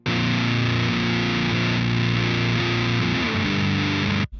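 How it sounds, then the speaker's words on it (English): An electric guitar through fuzz and distortion plugins together plays sustained, dense shoegaze chords, loud and evenly compressed, ending with a sudden stop. "if we add the distortion pedal alongside the fuzz, it sounds like this."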